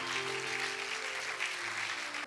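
Congregation clapping at a French-language church service, a dense, even wash of applause from many hands, with low sustained keyboard chords underneath.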